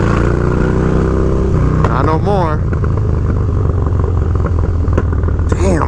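A Harley-Davidson Dyna Low Rider with a TBR exhaust and Arlen Ness air cleaner revs loudly up close, its deep rumbling idle climbing into throaty blips of throttle, while someone speaks briefly over the engine.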